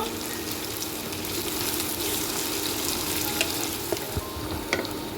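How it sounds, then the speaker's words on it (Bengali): Steady crackling sizzle of onions frying in hot oil, with a few soft clicks of stirring near the end, no talking. "পেঁয়াজটা আমি ভেজে নেব"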